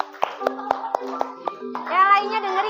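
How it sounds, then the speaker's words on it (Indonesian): Children in a classroom clap their hands in a short burst of sharp, fairly regular claps, close by, followed by children's voices and chatter rising toward the end. "beri tepuk tangan sama kelompok 7."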